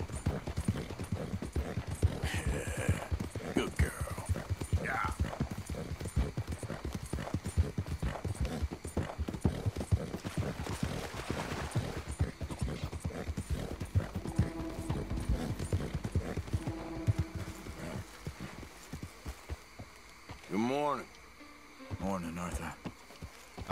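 Horse hooves clip-clop steadily during a ride in Red Dead Redemption 2, joined by buzzing insects and, near the end, a brief whinny from the off-brand horse.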